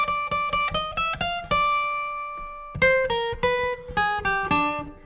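An electric guitar plays a two-bar phrase from the solo of a song: clear, close plucked notes, a quick run, a long sustained note, then another rhythmic sequence of picked notes, with no talking.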